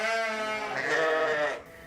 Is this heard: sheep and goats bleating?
yes